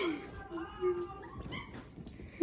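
A dog whimpers and yips in soft, high, wavering cries, close and fairly quiet, with faint voices murmuring in the background.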